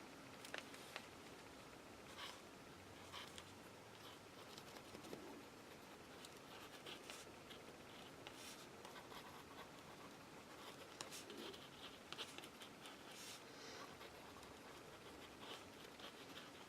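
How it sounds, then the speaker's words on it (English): Pen writing words in small blocks for hidden journaling on a craft page, a faint, steady scratching and patter of the tip across paper, close and quiet with no voices. "so I will try and write some words here"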